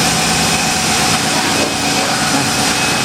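A Nissan X-Trail engine idles with its hood open, a steady, loud broadband rumble with a low hum that holds even and unbroken throughout.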